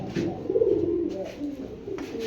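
A pair of silver pigeons coo close by, one drawn-out throaty coo followed by shorter murmurs, fairly loud and with no talking over it.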